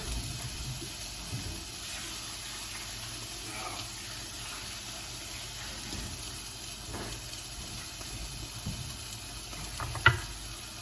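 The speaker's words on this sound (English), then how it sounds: "Yeah, you can just hear that sizzle." Beef sizzles steadily in a hot frying pan, a constant soft crackling hiss, with a brief clatter near the end.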